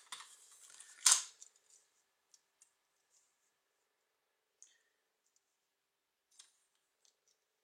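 Paper is cut vertically for a baby mini album, one short crisp cutting burst at the start followed by a few faint, sparse clicks and taps in near silence.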